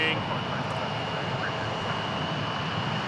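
Embraer E175 jet at DFW International Airport, its engines giving a steady, continuous roar that holds at an even level throughout, with no pause or break.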